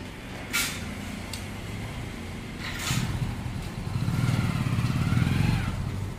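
A motorcycle towing a container-type bike trailer on a test ride, its engine idling and then revving up with a rising rumble, fairly close, with a couple of clanks along the way.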